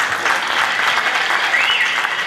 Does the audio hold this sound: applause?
yes